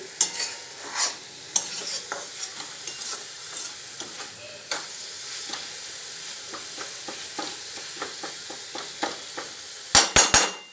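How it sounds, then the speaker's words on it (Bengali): A spatula scrapes and taps against a pan in a steady stirring rhythm while Brahmi greens sizzle gently in ghee underneath, ending with a few sharp knocks. "এবার ওপর থেকে একটু ঘি দিয়ে দেবো। দিয়ে এটা নেড়ে ছেড়ে নিই।"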